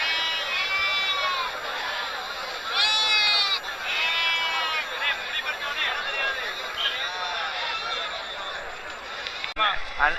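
Goats bleat repeatedly at the Tuesday goat market in Melapalayam, Tirunelveli, several wavering cries from nearby animals rising over a constant crowd murmur and outdoor hubbub, with people talking throughout.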